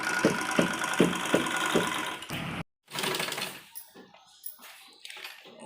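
A sewing machine runs in steady rhythmic bursts while stitching fabric for an Afghani salwar, then stops abruptly. Softer handling noises of the fabric follow.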